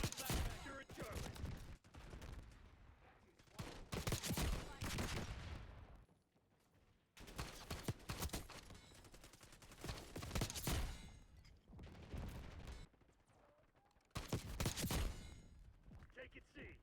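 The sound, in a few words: gunfire in a video game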